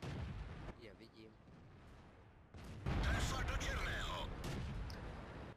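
World of Tanks gameplay with a deep tank cannon blast booming partway through, followed by loud rumbling and clatter; a voice talks over parts of it.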